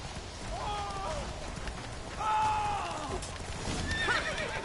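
Roach the horse in The Witcher 3 lets out a few loud whinnies over the steady clatter of galloping hooves, with rumbling movement noise underneath.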